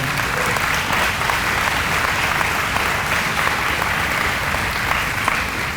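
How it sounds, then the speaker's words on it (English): Sustained, dense applause fills a room at a community violence-prevention event, many hands clapping steadily at even loudness throughout with no break or voices. "I want to take this time again and applaud our school and street outreach team."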